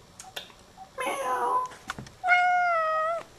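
A cat gives a clear, drawn-out meow near the end, after brief human talk and some rustling and thumps.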